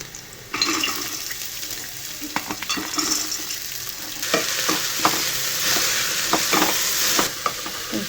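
Onion, garlic and sprouted grams frying in a pan, a steady close sizzle broken by scraping and stirring clatter, with the hiss swelling louder partway through and no talking.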